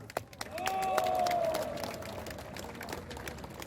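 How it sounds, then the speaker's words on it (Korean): Audience applause at a large Korean patriotic gathering, a broad crowd clapping with a few cheers, rising then settling into steady diffuse clapping, with a whistle-like tone briefly over it. "큰 박수 한번 해주시기 바랍니다"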